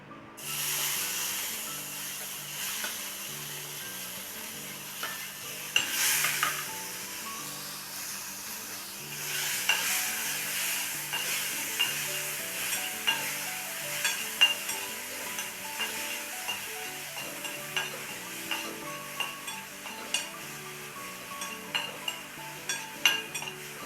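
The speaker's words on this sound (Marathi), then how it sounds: "त्याच पॅनमध्ये आपण टमॅटो पण टाकू" Chopped tomatoes fry in a pan for Khandeshi shev bhaji, a steady close sizzle and hiss with frequent clinks and scrapes of a spoon stirring against the metal, no talk.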